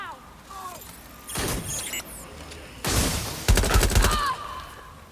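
Watch Dogs Legion gunfire, several loud bursts of rapid shots in quick succession with brief gaps, mixed with game effects and a voice speaking between them.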